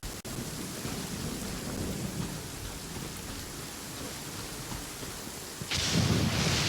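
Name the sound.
rain and thunder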